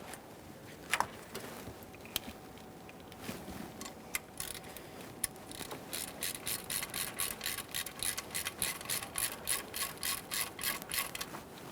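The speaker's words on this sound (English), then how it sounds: "snug them up using an E6 Torx socket" A ratchet with an E6 Torx socket snugs ignition coil studs on a 2011-2020 Toyota Sienna 3.5L V6: a few scattered clicks first, then a quick run of rhythmic ratcheting clicks, close up with no talking.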